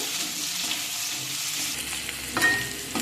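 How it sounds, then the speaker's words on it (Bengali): Chopped onion and capsicum frying in a pan give a close, steady sizzle, with a sharper clatter of stirring against the pan after the midpoint. "এখানে পেঁয়াজ আর ক্যাপসিকাম আমি ভালো একটু ভাজা ভাজা করে নেব"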